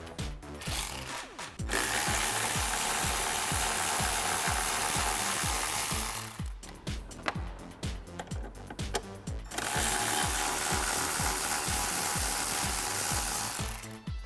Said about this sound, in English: we're going to take our 8mm on our 1/4 inch drive electric ratchet, remove these 2 here